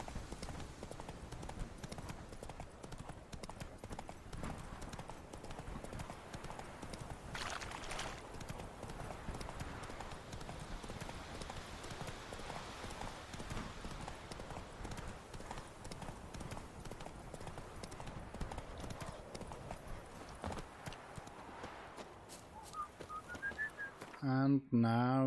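Horse hooves clip-clopping in The Witcher 3 as the rider travels, a steady rhythmic gait sustained throughout, with a whistle and ambient game sounds, ending in a brief sharp effect.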